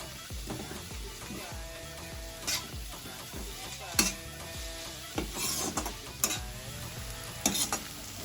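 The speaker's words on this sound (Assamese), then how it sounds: "এতিয়া আমি ভাজি আছোঁ" Capsicum sizzles in a pan for chowmein while a spatula stirs and scrapes in a steady rhythm, with occasional louder clanks of metal against the pan.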